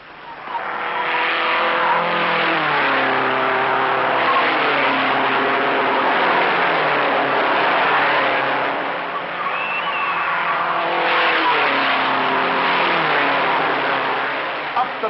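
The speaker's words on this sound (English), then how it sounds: "The lap speed moves to 142 miles an hour, with 3 cars maneuvering through the turn inches apart." Three 1956 Formula 1 race cars run inches apart through a turn, their engines roaring loudly and continuously as pitch rises and falls. A commentator talks over the noise.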